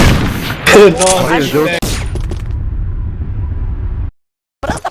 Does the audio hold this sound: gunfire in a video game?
yes